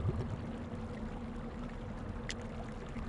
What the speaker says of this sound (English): Fill your amphora with the foul water